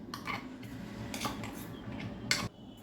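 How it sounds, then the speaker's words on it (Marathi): A spoon scrapes and clinks against a steel mixer jar and plate while ground ingredients are scooped out, a few soft metallic taps and scrapes spread over a few seconds, fairly quiet. "मिक्सरमध्ये वाटून घेतलेलं साहित्य ताटामध्ये काढून घेऊया."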